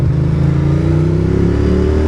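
Ducati Monster motorcycle engine running steadily on a wet, cold road, a close, continuous low rumble with a slowly rising tone and no voices.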